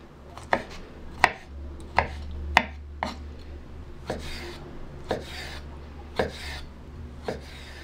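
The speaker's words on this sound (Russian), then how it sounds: "Такими вот небольшими кубиками вот вырезаем огурчик." Close knife chops on a board as a pickled cucumber is cut into small cubes for a kidneys-in-sour-cream dish, about ten crisp, fairly evenly spaced strikes with nothing else audible.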